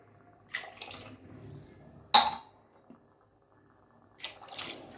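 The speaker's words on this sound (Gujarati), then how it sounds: "તો આપણે આ ચાર ગ્લાસ પાણી નાખી દેશું" Water is poured from a glass into a cooking pot for spinach paneer pulao in two short splashing bursts, with a sharp metallic clank of the vessel between them in an otherwise quiet kitchen.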